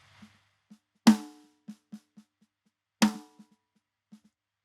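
A sparse prog drum mix without the punchy console output model: two big cymbal-and-kick hits about two seconds apart, with light ghost-note snare and tom taps between them. It is dry and close, and no one talks.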